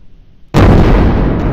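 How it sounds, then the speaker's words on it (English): A tank cannon fires in the Brick Rigs video game: a sudden, loud, close blast bursts in after a near-silent moment and then rumbles on heavily without easing off. "2 seconds of me firing this cannon"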